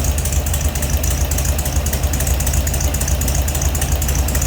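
A 1972 Volkswagen Super Beetle engine idles steadily with a low, pulsing rumble that holds even and close throughout, with no voices.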